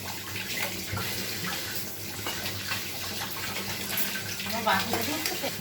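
Running tap water pours over a spice bowl being rinsed in a home kitchen during mustard hilsa cooking, a constant close splashing with brief clinks, while someone talks over it.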